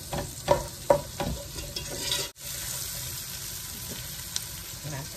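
Beef curry in a large pot sizzles steadily while a utensil stirs it. The quiet scraping strokes come in a loose rhythm, mostly in the first seconds.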